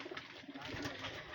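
Domestic pigeons cooing softly in a small indigenous pigeon farm in Bangladesh, low throaty coos rising and falling faintly over a hushed indoor background, with no clear talk.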